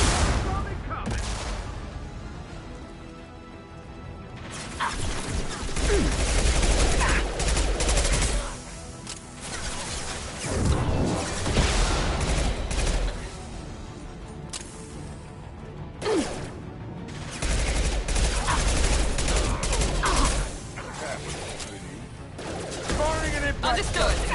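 Video game combat with bursts of gunfire and heavy impact shots, loud and dense, mixed with whooshes and crashes while voices talk over the action throughout.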